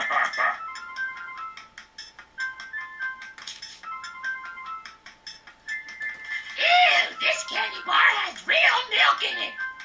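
A text message ringtone in the Homestar Ruiner video game plays as a chirpy electronic jingle of repeated melodic phrases. A voice then talks and sings in its place, partly imitating the tune.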